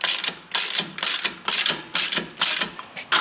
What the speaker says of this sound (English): We're going to use an 18mm socket and wrench.